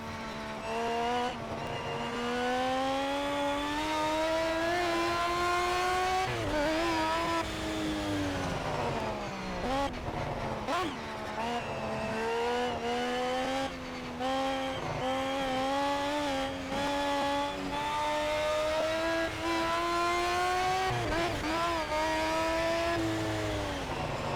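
A race car engine revs hard through the gears in Project Cars, a loud, continuous whine that climbs and drops with each shift and corner, sustained throughout with no talk over it.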